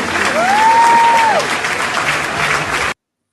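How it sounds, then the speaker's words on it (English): A crowd claps steadily after a 25 million naira donation is announced, dense applause with a held whistle or voice tone over it early, continuing loudly until it cuts off abruptly. "Is that how you clap for 25 million?"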